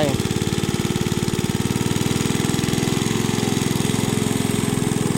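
A grass-cutting engine drones loudly and steadily while mowing grass, a rapid pulsing throb that holds an even pitch throughout with no pauses.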